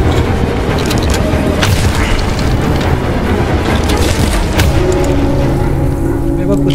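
A rocket launcher explosion in the Choo Choo Charles horror game, a loud booming blast with rumbling, crackling debris, heavy and continuous, with someone talking over the noise.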